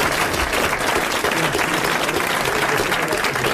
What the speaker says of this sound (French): Je vous demande d'applaudir Monsieur Lasserre de Villeneuve-d'Ornon